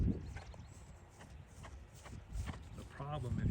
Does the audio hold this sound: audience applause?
no